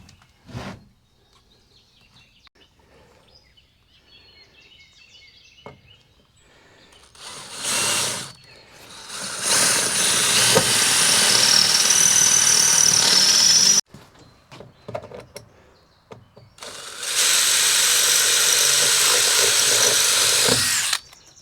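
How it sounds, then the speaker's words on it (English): A power drill bores holes into a trailer while LED flashing lights are being installed, with two long, loud bursts of whining drilling separated by a short pause and a few quieter tool sounds before them. "Okay, holes are drilled."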